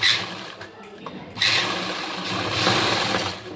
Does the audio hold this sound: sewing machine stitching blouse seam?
yes